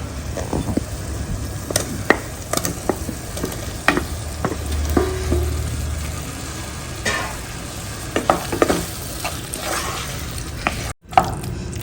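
Potatoes being stirred into softened tomatoes in a pan, with a steady sizzle of frying under repeated scraping and clinking of the spoon, nearby and alone.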